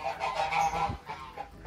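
A female Canada goose honks while being caught by hand, giving a short run of loud, nasal, close honks with no talking.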